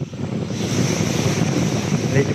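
Wind buffets the microphone at Unay Beach, a steady loud rumbling roar with gusty swells and a faint surf-like hiss underneath.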